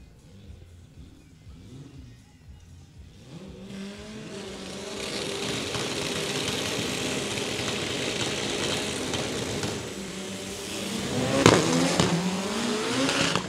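A drag racing car, the Turbo A category record holder, accelerates hard down the left lane of the strip at an Amazonas state drag racing championship, its engine rising from a distant rumble to a loud, sustained roar with no voices over it.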